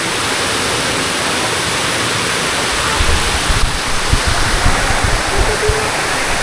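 A strong waterfall roars in a steady, dense rush of water, close and loud, at a hidden natural site in Bula, Camarines Sur, with a slight surge in low churning after a few seconds.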